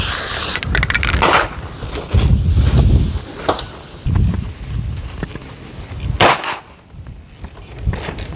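At an outdoor shooting range, a few sharp gunshot cracks ring out toward a distant target, spaced irregularly among rustling, wind and handling noises; one loud report stands out near the end.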